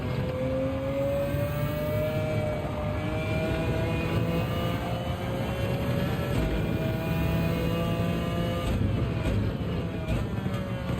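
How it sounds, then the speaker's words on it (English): A race car engine in Gran Turismo 7 at Spa holds a steady, high whining drone with smoothly rising pitch and a brief shift near the end, loud and continuous with no voices. "Sounds like an electric car to me"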